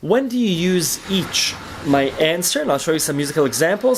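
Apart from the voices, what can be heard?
None of the usual background noises is heard.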